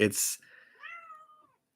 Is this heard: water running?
no